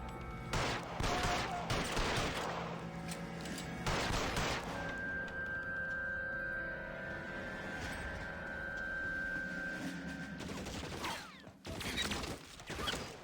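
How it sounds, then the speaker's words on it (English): Bursts of gunfire in the L.A. Noire video game, several loud sharp volleys in clusters, then a sustained ringing tone before more shots near the end. "Who's shooting at me?"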